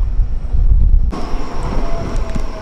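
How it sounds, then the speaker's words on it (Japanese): A freight train on Japan's Nippo Line rumbles past close by, a steady low roar that suddenly swells into a louder, broader rushing clatter partway through. "この辺りでは珍しい貨物列車"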